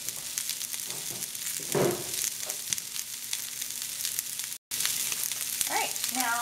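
Onions fry in Earth Balance vegan butter in a skillet, a steady close sizzle with brief stirring scrapes and a short break in the sound.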